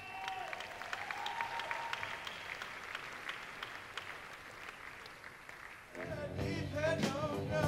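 Dense applause from an awards gala audience at a music museum's legends event, steady and moderately loud throughout, swelling near the end as a voice speaks over it.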